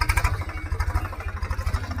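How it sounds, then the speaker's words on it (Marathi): A maize threshing machine engine sputtering as it starts, with a fast, even chugging pulse and some rattling clatter, loud and close, heard alone. "तुम्हाला मशीन चालू करताना दाखा"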